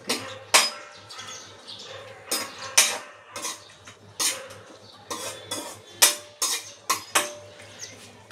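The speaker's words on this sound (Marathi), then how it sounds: "पाच मिनिटापर्यंत तुम्ही असं परतवून घ्या" Semolina being stir-roasted in ghee in a pan for sheera, with close, irregular scrapes and clinks of a spoon against the pan, repeating every half second or so.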